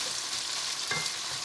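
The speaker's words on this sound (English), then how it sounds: "while that's sizzling" Chicken sizzles in a pan for an oyster chilli stir fry, a steady hissing crackle close by with a small pop near the middle.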